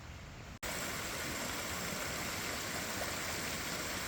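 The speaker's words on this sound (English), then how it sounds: "There's the babbling brook." A flooded creek in Kentucky rushes as a steady broadband wash of flowing water, loud and constant after a brief cut near the start.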